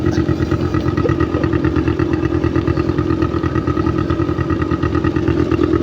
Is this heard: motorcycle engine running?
yes